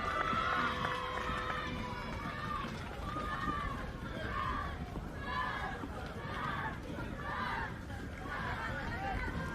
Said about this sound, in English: Kids cheering them on